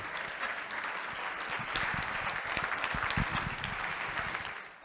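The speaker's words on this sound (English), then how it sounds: "Once again, folks, let's give a nice round of applause" Guests at a wedding reception applaud, a dense, steady round of many hands clapping close and loud for several seconds without talk.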